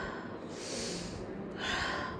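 A person imitating stridor, a long noisy inhalation from upper airway obstruction: two drawn-out, harsh, hissing in-breaths, close and fairly loud, the first longer, the second rising after a brief pause.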